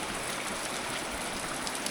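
Steady broadband splashing of water pouring off a roof under repair on an Irish homestead, continuous and fairly close with no talk.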